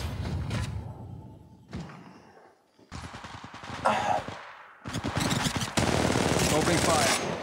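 Heavy automatic gunfire in Apex Legends Mobile, loud and close, in rapid sustained bursts with thuds and brief pauses between volleys, building to nearly continuous fire toward the end.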